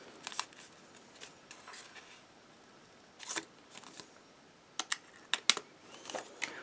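Scissors snipping through material while making a homemade plastic-bag holder, a run of short, crisp, irregular cuts and clicks, some in quick clusters, heard close up in an otherwise quiet room.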